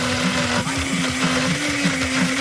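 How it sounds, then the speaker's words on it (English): A blender runs on a live television talk-show set, giving a steady, loud motor whine with a faint rhythmic pulsing, constant for the whole stretch. "So I've got this exact blender"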